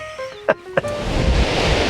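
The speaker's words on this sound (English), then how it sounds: "So the wind is absolutely wild out here tonight. It's pouring with rain" Wild wind and pouring rain outdoors at night, a steady broad rushing wash that rises and fills the space after a couple of short knocks and tones at the start.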